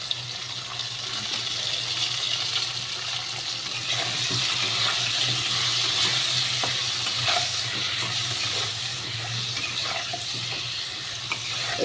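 Spices fry in a pan just after turmeric and salt go in, cooking down with a vegetable: a steady close sizzle with soft crackles and a faint low hum, continuous and even, no talking.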